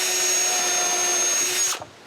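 A power drill drives a screw through a wooden wedge into a moving window frame at a cottage, whirring steadily and loudly for nearly two seconds before winding down and stopping.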